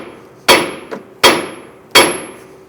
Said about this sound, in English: I'm going to strike the side of the knuckle right here